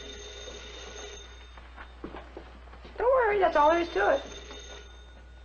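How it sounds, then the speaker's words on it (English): Telephone ringing in a 1956 radio drama, two bright ring bursts after quiet talk, clear and fairly close. "That's the phone"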